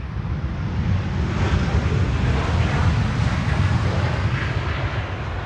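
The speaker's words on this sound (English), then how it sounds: "In the meantime, a 737 from KLM is landing here on the Polderbaan." A KLM Boeing 737 lands on Schiphol's Polderbaan runway, its engines giving a loud, continuous rushing roar that stays close and steady, with some wind buffeting.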